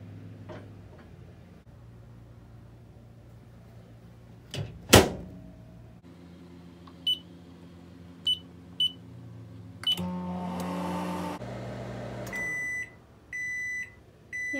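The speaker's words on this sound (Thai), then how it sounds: "เข้าไมโครเวฟเลยค่ะกดแค่5นาทีนะคะพี่น้องคะ" A microwave oven holding sticky rice to steam has its door shut with a sharp thud, then a few short keypad beeps as the timer is set to five minutes, followed by the steady hum of it running, with quick beeps near the end.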